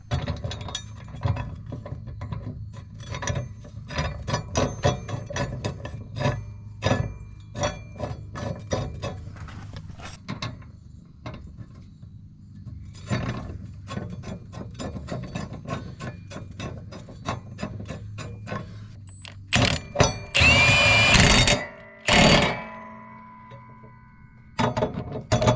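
An impact wrench tightens lawn mower blades during equipment maintenance: long stretches of irregular metallic clicking and ratcheting, then two short, loud, harsh bursts of hammering near the end.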